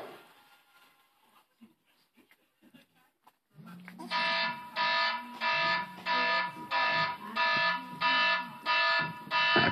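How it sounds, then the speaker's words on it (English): A kitchen timer alarm starts up after a few faint background clicks and beeps in a burst-like pattern, about eight loud, evenly spaced pulses of rapid electronic beeping with a lower tone underneath. "That's my timer."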